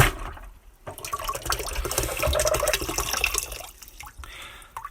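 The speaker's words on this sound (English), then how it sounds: "let's turn off the fire and then get it back into the cold water" A boiling-hot can taken off the fire is plunged into cold water for a can-crushing physics experiment, giving a short sizzling, bubbling, splashing rush of water that swells and then fades.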